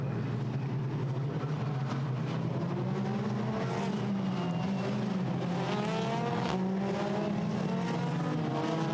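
Formula Renault 2.0 single-seater race cars at Silverstone, engines roaring continuously at high revs with rising and falling pitch as they pass, loud and steady throughout, with no one talking.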